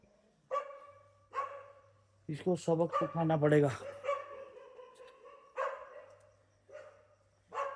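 Dogs bark repeatedly in short, sharp yaps spread across the moment, with a louder burst of several rapid barks in the middle, heard close by against a low steady hum while someone speaks.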